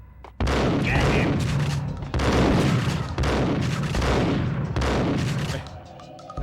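A Max Payne shootout across a hall produces heavy, sustained gunfire in several long, loud bursts broken by brief pauses, booming and reverberant.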